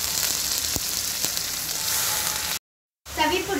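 Crushed garlic-chili paste and washed fenugreek leaves fry in hot oil in a kadhai, a continuous loud sizzle with a few stirring clicks, cut off by a brief silence before the sizzling resumes.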